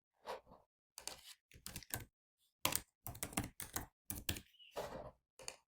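Bursts of keystrokes on a computer keyboard while values are entered into a Salesforce field, tapping in irregular clusters separated by short pauses, close and clear with no talking.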